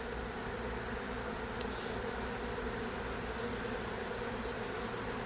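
A September honeybee swarm with its queen down on the ground near a top-bar hive gives off a dense, steady, close-up buzz of many wings that holds unbroken throughout, with no voices.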